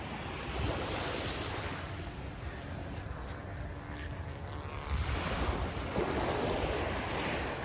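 Ocean waves wash onto a Barbados beach as a broad, continuous roar of surf, with heavy wind buffeting the microphone and swells rising and falling throughout.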